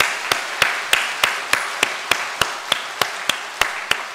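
A lone, evenly spaced clap repeats about every third of a second, a steady rhythmic beat rather than a congregation's broad applause.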